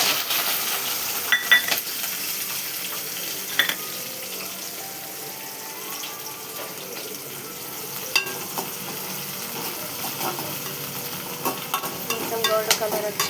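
Onion and green chillies frying in oil with turmeric and ginger, a steady soft sizzle running throughout with occasional scrapes and clinks of a stirring utensil against the pan.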